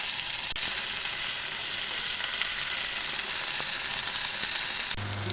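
Taro stolons fry in hot oil in a pan with a steady, close, dense sizzle throughout and no talking.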